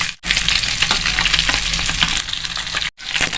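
Fish frying loudly in a pan, a strong continuous close sizzle with a low rumble, cut by two brief dropouts where the sound stops for a moment.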